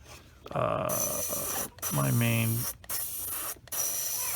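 A Sparmax Flyer SR airbrush spraying a solid color of paint gives a steady, close airy hiss that cuts off briefly a few times, with a voice talking over it.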